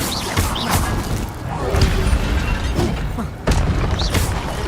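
Incendio and Levioso spell casts in the Hogwarts Legacy video game, a dense mix of booming impacts and whooshing bursts with several sharp hits, loud and continuous over game sounds.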